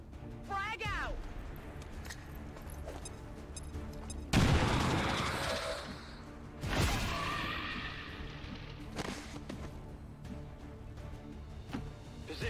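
A frag grenade detonates in XCOM 2, two loud blasts with rolling rumble several seconds apart, set among game sounds and voices talking over quieter stretches.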